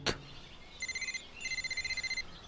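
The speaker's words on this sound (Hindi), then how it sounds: "फोन बजा तो नाज ने फोन उठाने के लिए हाथ बढ़ाया।" A telephone rings in two bursts of rapid electronic trilling, each a steady warbling run of pulses, preceded by a brief knock and set against a quiet room.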